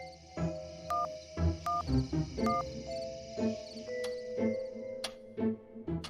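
A telephone is dialed in a cartoon scene, heard as a series of distinct, fairly quiet ticking clicks and short tones in an uneven rhythm, with no voices.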